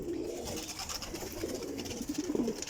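Pigeons kept on a rooftop cooing softly, a few low repeated coos near the end over faint background noise.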